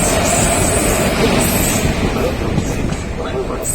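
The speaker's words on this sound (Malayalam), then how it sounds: "നമ്മൾ കാത്തിരുന്ന ഇന്റർസിറ്റി എത്തിയിട്ടുണ്ട്." An intercity passenger train pulls into Tirur railway station, a loud, steady rumble and rattle of rail cars filling the whole stretch with a faint high squeal, under the bustle of a crowded platform.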